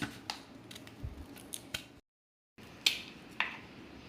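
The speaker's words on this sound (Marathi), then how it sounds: "हे असे काप करून घेईन मी आणि असे गोल कापून घेते मी आता" A knife slices bitter gourd into round pieces in a home kitchen, a series of short crisp cuts at an uneven pace, close and fairly quiet, with a brief silent gap midway.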